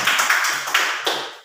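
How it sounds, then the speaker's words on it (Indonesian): Short classroom applause, about five crisp claps in quick succession that quickly fade out, with no talking. "Tepuk tangan untuk Mawar."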